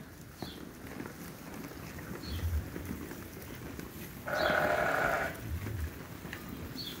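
Sheep bleating at morning feeding time on a farm, several scattered calls near and far, one long loud bleat in the middle, with low grunting and shuffling between them and no talk.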